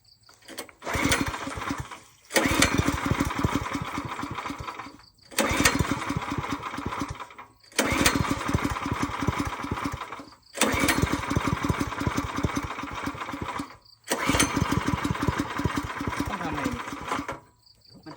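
A small farm engine is pull-started six times in a row, each try sputtering into a loud, rattling run for about two seconds before cutting out, with short quiet gaps between attempts.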